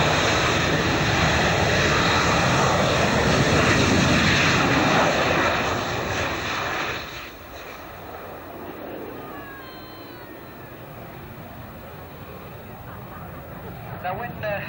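Harrier GR5 jet aircraft: loud, dense jet engine roar for about seven seconds, then dropping to a quieter, thinner rumble with faint high whistles, while a person speaks over it.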